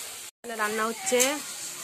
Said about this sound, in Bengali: মটরশুঁটি দিয়ে বাঁধাকপি রান্না করছে মা কাঠের উনানে